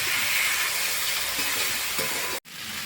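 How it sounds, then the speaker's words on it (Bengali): A little water is splashed onto spices frying in a hot pan, making a loud, steamy hiss that rolls on steadily. It breaks off briefly near the end, then resumes more softly. "সামান্য অল্প জল দিয়ে দিচ্ছি"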